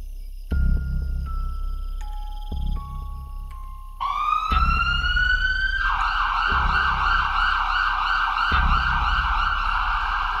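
A loud ambulance siren wails alone, starting with stepped electronic tones and then settling into a steady, rising-and-falling emergency wail.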